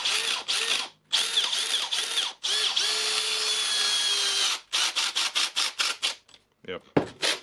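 A Makita DDF486 cordless drill runs in second speed with a harsh, grinding, rattly whine, first in longer bursts, then in a string of short trigger pulls, recorded up close.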